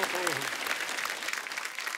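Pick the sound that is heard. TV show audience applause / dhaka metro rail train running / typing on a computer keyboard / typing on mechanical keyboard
TV show audience applause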